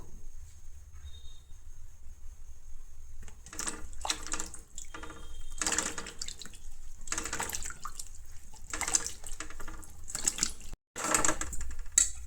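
Large cultivated mushrooms washed under a running kitchen tap, with bursts of splashing water starting after a quiet opening and repeating in uneven surges, close and moderately loud.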